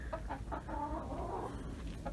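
Several laying hens inside a rural coop cluck steadily at close range in short repeated bursts, some calls drawn out, with no voices over them.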